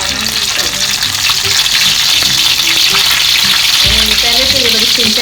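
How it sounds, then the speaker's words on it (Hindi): Okra shallow-fries in ghee over low heat for stuffed bharwa bhindi, a loud, close, continuous sizzle with crackling bubbles and occasional stirring, no voices. "इसके बाद फिर घी में हमने इनको ना हल्की आंच पे फ्राई कर लेना"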